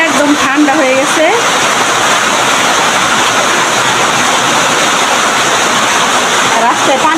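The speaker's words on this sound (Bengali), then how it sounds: "প্রচুর বৃষ্টি, প্রচুর পরিমাণ বৃষ্টি" Heavy daytime rain pouring steadily and loudly, a dense continuous hiss close by, with a brief voice near the start and end.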